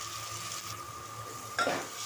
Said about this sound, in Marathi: आता इकडे चालले हे डाळीची फोडणी